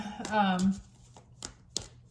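Tarot cards being shuffled by hand in a pre-shuffle, several quick crisp riffles and taps near the microphone, following a short stretch of someone talking.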